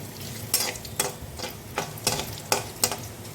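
Whole cumin seeds and bay leaf fry in a little oil, with a soft sizzle under steady, evenly spaced scraping strokes roughly every half second.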